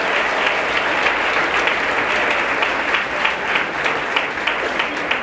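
Strong applause from a church congregation during a sermon, dense clapping close and steady throughout, with no talking over it.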